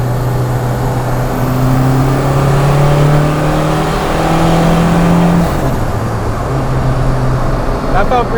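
A tuned turbocharged car engine pulls hard in fourth gear, heard from inside as a loud, steady rising drone that climbs in pitch as it revs, then drops off near the end with a brief whine.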